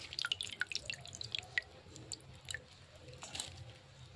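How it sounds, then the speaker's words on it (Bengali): Water dripping and trickling from freshly washed hinche greens, scattered light drips and soft wet squishes over a few seconds, close and quiet. "ভালো করে জল ঝরিয়ে ঝরিয়ে আর একটা অন্য জায়গায় আমি তুলে নিচ্ছি।"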